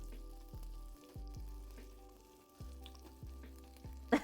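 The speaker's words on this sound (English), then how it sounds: "She knows the sizzle sound." Chickpea potato curry sizzles steadily in a frying pan throughout, with repeated stirring scrapes every half second or so and a brief louder clatter near the end.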